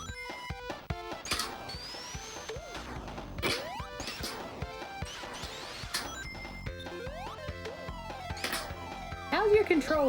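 Loud clattering of game controller buttons being hammered during fast play of Sonic the Hedgehog 2 and Knuckles, mixed with busy game music and sound effects.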